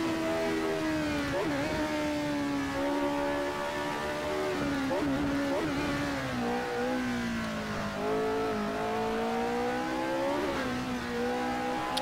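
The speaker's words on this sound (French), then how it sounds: "profiter du son également de cette McLaren à moteur Ford" Race-car engine of a McLaren M23 with a Ford engine, lapping the Nordschleife in the Assetto Corsa video game, roars loud and steady throughout, its pitch rising and falling through gear changes and revs.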